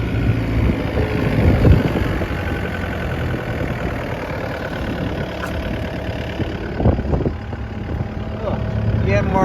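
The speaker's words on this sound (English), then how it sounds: "Yanmar diesel sure sounds good to my ear." A Yanmar diesel engine idles on an IHI 65NX excavator, a steady, rough low rumble with knocking texture and occasional clanks, close and continuous throughout.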